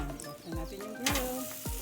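Pork belly sizzling on a grill, a close, loud crackle and hiss with brief scraping and clattering as the grill is opened.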